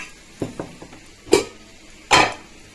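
A pan tempering curry leaves, green chilies and a pinch of asafoetida for a buttermorr kulambu: a few close metallic scrapes and clinks from a spoon against the pan over a faint low sizzle, with no talking.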